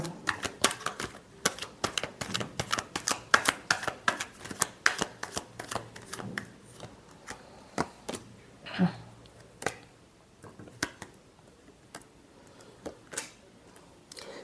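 Tarot cards are shuffled by hand in quick, crisp riffling bursts of clicks and flicks, close and fairly quiet, thinning to a few scattered taps toward the end with no talk.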